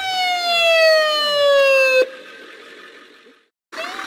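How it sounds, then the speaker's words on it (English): An ambulance siren wails loud and close, its tone sliding in a sustained sweep for about two seconds before cutting off, followed by a quieter tail and a short burst of another sound. "Ambulance."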